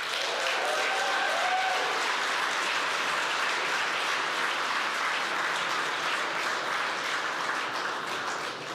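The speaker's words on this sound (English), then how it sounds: "let's give another round of applause to Layla and Mihrin." Steady, dense applause from a large audience fills the whole stretch, holding at an even level before easing off slightly at the end.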